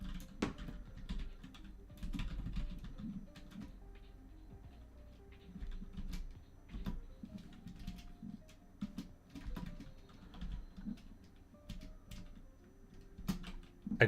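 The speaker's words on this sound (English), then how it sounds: "If I can go ahead and start typing this" Faint, quiet tapping of keys on a computer keyboard in irregular bursts, with soft clicks scattered across the whole stretch and no talking.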